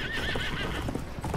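A brief, close burst of galloping hooves and a whinnying horse in the Battlefield 1 video game, loud over busy battlefield noise.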